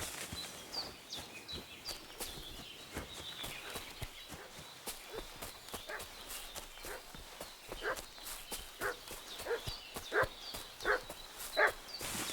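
In Kingdom Come: Deliverance 2, a dog barks repeatedly at a steady, insistent rhythm, moderately distant, mixed with hoof clops and faint outdoor birdsong.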